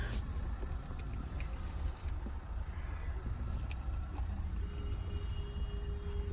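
Traffic on a snowy mountain road around Shimla rumbles as a low, continuous engine drone from inside a vehicle, with faint passing noises and no talk.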